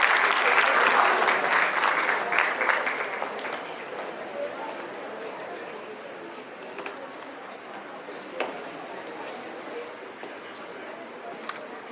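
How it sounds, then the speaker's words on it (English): Audience applause at a national debate award ceremony, loud at first and then tapering into scattered claps and a few sharp individual hits over several seconds. "A huge round of applause for them, please."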